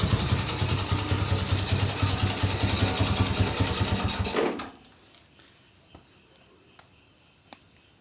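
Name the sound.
Suzuki Shogun 110 motorcycle engine running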